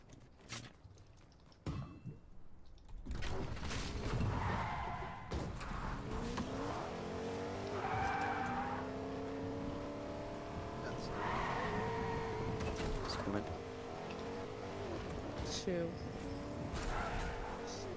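Cars in a Fortnite match skid and screech with squealing tires and revving engines, a continuous loud rush of tire squeal and motor noise, with a voice talking over the action at times.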